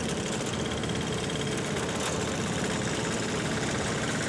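A new diesel engine fitted in an old Wheel Horse tractor idles steadily nearby, a constant rumbling chug with a faint knocking rhythm and no other sounds.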